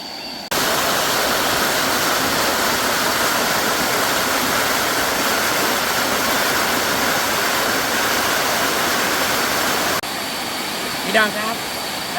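Loud, steady roar of rushing water from the lower tier of Tat Nok Khian waterfall filling the space, with a brief voice near the end.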